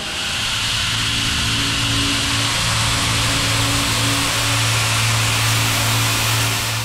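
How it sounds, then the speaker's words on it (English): A CNC machining center roughs pull stud holes into a large blisk with a continuous loud broadband roar of spindle, cutting and coolant, steady throughout with faint tonal hums underneath and no talking. "All right, now we're gonna rough in our pull stud holes."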